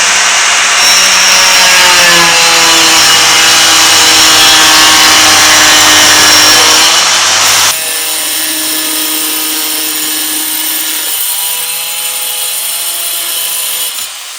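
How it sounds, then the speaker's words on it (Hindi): An ENON XE-4002 angle grinder fitted with a diamond blade cuts through tile in one loud, continuous grinding whine. About halfway through, the pitch and load shift as the cut eases, and the blade keeps spinning steadily to the end with no voices. "ये देखिए अब मैं इसकी कटिंग करूंगा टाइल की।"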